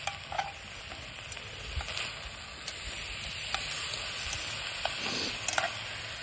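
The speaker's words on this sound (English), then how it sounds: "All right, these are starting to sizzle pretty good." Beef short ribs sizzle in a hot skillet at a campsite, a steady soft frying hiss with scattered pops and crackles and occasional clinks, fairly quiet and without talk.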